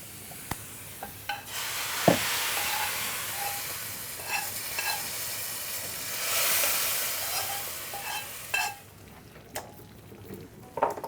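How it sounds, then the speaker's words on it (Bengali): Fried onions, crisp beresta, tipped into a pot of lentil dal, giving a steady soft sizzle and stirring hiss with small scraping clinks, swelling around the middle then easing off, close by with no talk. "হয়ে গেছে আমার বেরেস্তাটা। এবারে কি করব? এটা আমি ডালে ঢেলে দেব।"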